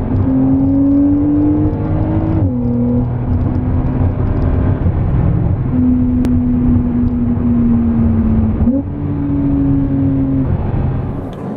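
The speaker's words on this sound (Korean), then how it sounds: "가속하면서 한 7000rpm 정도까지 써봤는데" A Porsche 911 Carrera 4S coupe (992) accelerates hard through the gears, its engine tone rising steadily, dropping sharply at each shift and climbing again, loud and close from inside the car.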